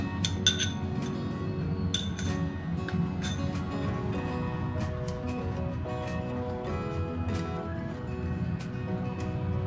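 Mashed ripe bananas are stirred into sweet rava appe batter in a bowl, with a spoon clinking and scraping against the bowl in a steady, irregular rhythm, close and moderately loud.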